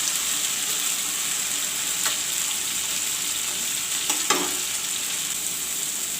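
Masala stuffing made with parval seeds fries in a pan, giving a steady, even hiss with a couple of soft scraping clicks from a spoon, close and continuous with no talking.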